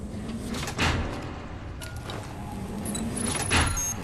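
A door sliding open in the zombie survival game ZombiU, with a couple of broadband mechanical swishes and clunks over a steady ambient game background, fairly close and moderately loud.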